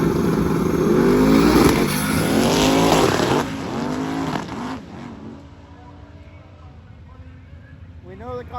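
At a drag racing event, a 240 and a Chevy 2 launch off the line with loud, rising engine roars that sweep away into the distance while an announcer talks over them.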